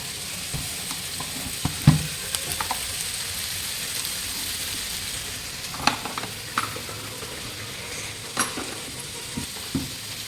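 Fish frying in a pan: a continuous bright sizzling hiss, close and fairly loud, with scattered pops and spatters through it.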